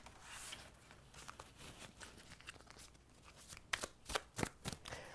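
A tarot-style card deck shuffled by hand, soft riffling and sliding at first, then a run of sharper, louder card flicks near the end, close and with no talking.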